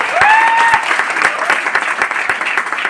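Loud, close audience applause at a business talk in Gandhinagar, with a thick burst of clapping and a few whoops at the start, then settling into a steady patter with distinct individual claps.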